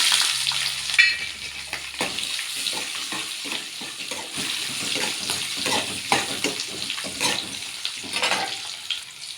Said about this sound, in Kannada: ಗೋಡಂಬಿ ಫ್ರೈ ಆದಮೇಲೆ ಒಂದು ಕ್ಯಾಪ್ಸಿಕಮ್ ಹೆಚ್ಚಿರೋದು